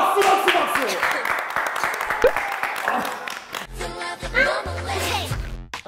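A small group at a lively after-party dinner bursts into loud, close applause mixed with excited shouting and chatter, the clapping dense at first and then breaking into scattered claps among voices.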